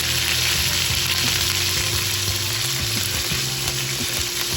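Two salt-and-peppered pieces of short rib brown in a hot pan in a pizza bar kitchen. The sizzle is a steady, close hiss with light crackles and occasional soft pan movement, and there is no talking.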